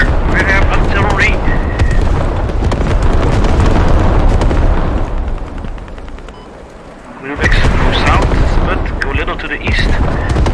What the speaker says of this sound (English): We have artillery.